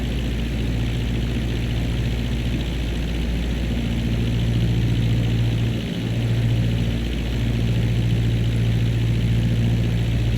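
A Cessna Skyhawk propeller engine drones steadily on approach in MSFS 2024, a continuous, even, loud low hum with a slight dip near the middle and no speech.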